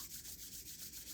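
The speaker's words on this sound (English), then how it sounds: "let's bring our palms together and briskly rub our hands" Palms of the hands rubbed briskly together in a steady, even back-and-forth rhythm, a soft close-up swishing friction, faint and heard alone.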